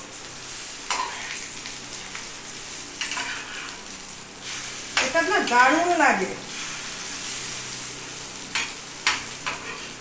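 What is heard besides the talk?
fish roe poppy seed balls frying in a nonstick pan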